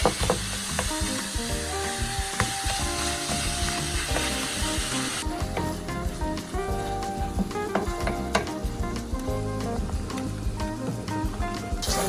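Ground beef sizzles steadily in a skillet with onions and garlic, a dense crackling fry with scraping stir noises, close and continuous with no talking.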